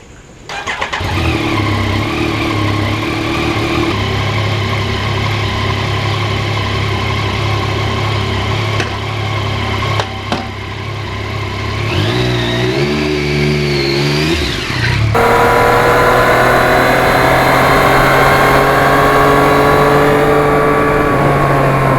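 A 2020 Yamaha MT-09 motorcycle engine cranks and fires, idles roughly, then revs up and settles into a steady, loud drone as the bike pulls away and cruises.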